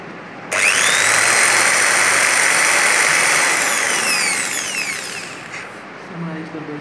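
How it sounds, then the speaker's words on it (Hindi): Whine of a small electric drill boring holes in a homemade printed circuit board, starting abruptly, holding a loud steady buzz, then winding down; a voice speaks briefly at the end. "सो केयरफुली आपको ड्रिलिंग करनी है"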